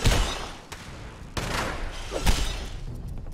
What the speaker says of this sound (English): How am I missing? I'm shooting right at him.